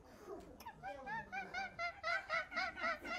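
Children imitate a kookaburra's laugh with a rising chorus of rhythmic, honking 'ha-ha' calls that grow louder and faster, several voices together, close and lively.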